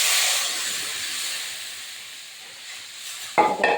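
Water poured into a hot pan of fish curry made with cumin and chilli paste bursts into a loud hiss of steam that slowly fades, followed by a brief clatter near the end.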